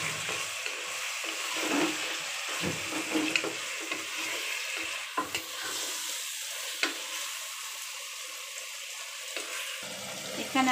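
Chopped potatoes fry in oil for home-style fried rice, a steady close sizzle punctuated by intermittent spatula scrapes and clacks against the pan.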